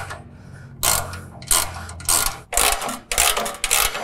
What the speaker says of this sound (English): all this is going to take is a 13 millimeter ratchet and socket